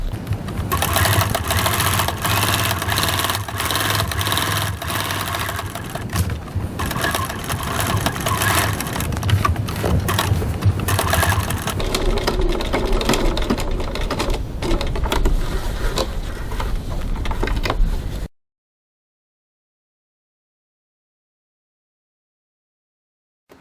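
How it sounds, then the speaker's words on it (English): A sewing machine stitches a fabric bag with a fast, steady mechanical whir, briefly halting and restarting as it back stitches, then the motor stops and the clip falls silent. "I'm going to back stitch here just to reinforce that."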